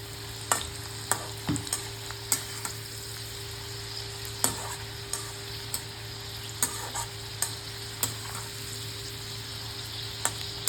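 Garlic sizzles and fries steadily in a hot pan while being cooked to a reddish colour, a constant crackling hiss broken by regular sharp clicks of stirring, close and loud with no talking.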